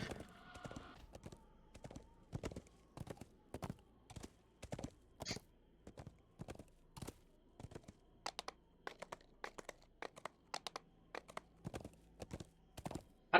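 A mounted horse in the online game Dungeons & Dragons Online clip-clops along in a steady rhythm of sharp, close hoof clicks that continues throughout, with occasional pauses.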